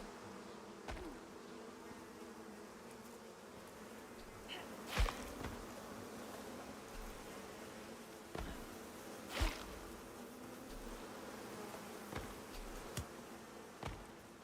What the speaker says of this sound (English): killing swarms of bees with my knife